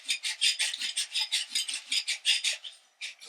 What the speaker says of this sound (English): And now we can just unscrew the barrel.